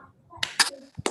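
A group claps in unison on cue during an Indonesian workshop session: a couple of sharp, close clap bursts, with a voice speaking just before them.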